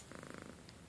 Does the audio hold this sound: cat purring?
yes